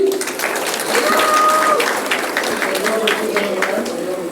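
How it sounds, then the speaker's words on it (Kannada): Audience applause at a stage program, a steady wash of clapping over about four seconds, with a host's voice talking over it. "ಚಪ್ಪಾಳೆ ಬರಲಿ"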